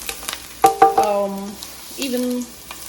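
Spices and ginger hit hot oil for veg Hakka noodles, bursting into a close sizzle with a few sharp crackles and short ringing tones from the pan, then settling into a steadier hiss.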